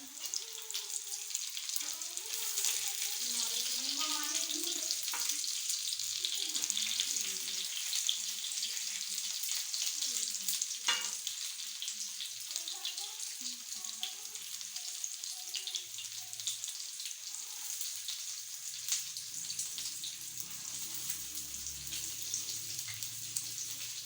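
Aloo tikki potato cutlets sizzle steadily in a hot pan as they are flipped, a continuous close frying hiss with occasional soft turning clinks, and a voice speaks briefly in the background.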